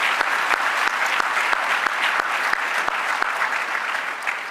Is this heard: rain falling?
no